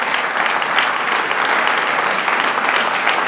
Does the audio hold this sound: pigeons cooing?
no